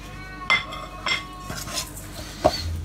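A spoon clinks and scrapes against a bowl while banana dough is mixed, a few distinct knocks spaced about half a second apart amid soft stirring, close and fairly quiet.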